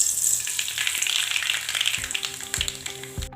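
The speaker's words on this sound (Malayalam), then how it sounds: "അത് ചൂടായി വരുമ്പോൾ നമുക്ക് കുറച്ച് കടുക് ഇട്ട് കൊടുക്കാം." About two teaspoons of hot coconut oil sizzles and spits as mustard seeds go in, a dense crackling fry close by, with a few thuds of pan handling toward the end and no voices.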